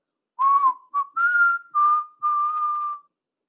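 A lone person whistles a short melodic naming tune from an Indigenous Indian tradition, five clear sustained notes with small pitch slides and brief gaps, close and clean against silence.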